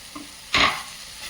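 Stirring bitter gourd palya with coriander leaves in a pan: a single short scraping, sizzling burst of about a quarter second, fairly close, set against a quiet room.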